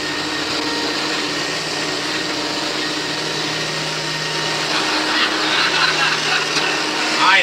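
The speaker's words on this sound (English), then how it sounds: "I'm vacuuming the rug." Vacuum cleaner running on a rug at night in a sitcom scene, a steady loud whirring drone with no pauses, rising slightly near the end.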